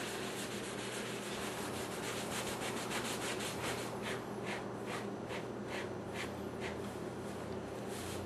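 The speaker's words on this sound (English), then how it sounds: "Just start kind of rubbing it in a circular motion." A rag rubs wood stain in circular motions into a wooden back quiver body, a close, soft, repetitive scrubbing swish that keeps a steady rhythm.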